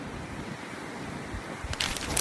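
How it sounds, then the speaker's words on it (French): Light wind in Tokyo buffets the microphone as a steady, moderately loud broadband rush, with stronger gusts toward the end. "Il y a un tout petit peu de vent à Tokyo visiblement."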